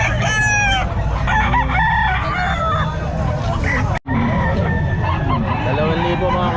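Roosters crow loudly up close at the Calumpit pet market, with clucking and a dense crowd babble of people talking throughout. The sound cuts out for a moment partway through.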